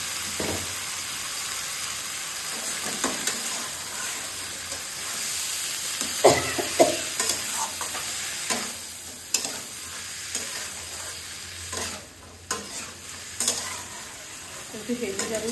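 Spices and vegetables fry in a pan with a soft, steady hiss, while a spatula stirs and scrapes in irregular bursts, close by with no talk.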